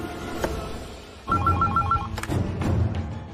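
A telephone rings once with a short warbling electronic trill, close by, amid quiet background noise, in a TV drama scene.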